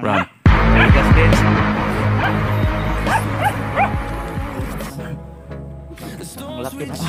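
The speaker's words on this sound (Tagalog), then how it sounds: "Ang laki ng aso ni Boy Tapang" A large dog barks and yips several times near a house, sharp repeated calls over background music and people talking.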